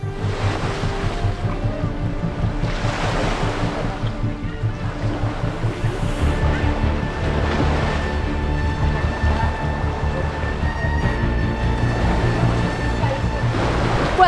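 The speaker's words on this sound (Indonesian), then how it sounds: "ini ombak sedang pasang-pasangnya" Loud ocean waves at high tide surge and crash repeatedly against a constant rumble of wind and a boat engine off an Indonesian island, with a faint tonal hum partway through.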